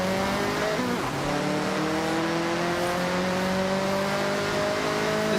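In Forza Horizon, a race car's engine drones loud and steady with pitch shifts as it works through gears, and tires squeal under cornering for several seconds, with no talking.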